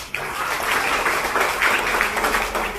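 Steady applause from a crowd at a Barisan Nasional candidate's friendly gathering for the N34 Lumadan seat, a dense patter of clapping that holds evenly for the whole stretch.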